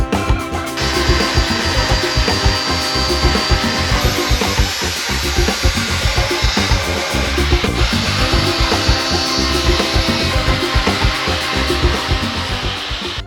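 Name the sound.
power saw cutting off a bracket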